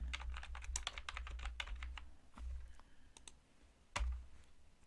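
Keys clack on a computer keyboard as an online land record form is filled in, a quick close run of typing followed by scattered slower taps and one firmer keystroke near the end, with no talking.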